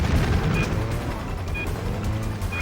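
Explosions and gunfire-like booms rumble continuously in the Stuntman video game, a dense, loud, low roar with scattered cracks and no clear pauses.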